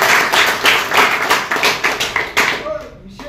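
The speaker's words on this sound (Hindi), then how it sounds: "एक बार ताली बजा दो" A crowd at a Lineman Day gathering honouring hotline maintenance workers claps in a steady rhythmic beat, loud and close, each clap distinct before it trails off at the end.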